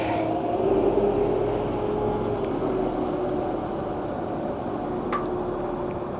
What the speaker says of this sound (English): Oh, a cute ferry headed for Barangaroo.